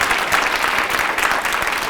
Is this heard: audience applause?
yes